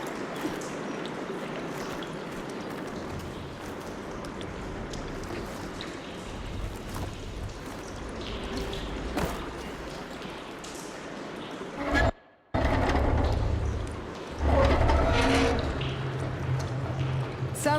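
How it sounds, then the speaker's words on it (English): In the game Horizon Forbidden West, water gushes and streams through pipes after a valve is opened upstairs, a steady rushing flow that swells louder near the end, with game voices speaking over it. "Aloy, I can hear water in the room again."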